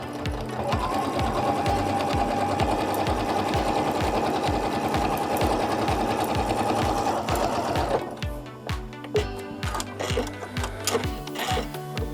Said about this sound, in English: I'm going to stitch it on the bias from corner to corner